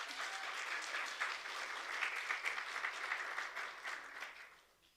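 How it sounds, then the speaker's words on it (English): Applause from an audience at a media event, a broad rustle of many hands clapping with small swells, fairly faint and distant, tapering off toward the end. "A round of applause, please."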